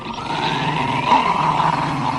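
A dog in the anime Flame of Recca growls low and continuously, a rough rumbling snarl that swells slightly in the middle and stays close.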